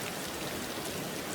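Steady rain falls as a dense, even hiss of drops, soft and continuous with no voices.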